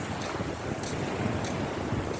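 Continuous roar of sea waves mixed with heavy wind buffeting the microphone, a dense rushing noise with no voices.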